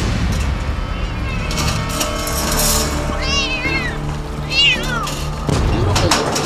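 Several feral cats caught in capture nets meow in distress amid rattling and clatter, while a narrator speaks over the noise.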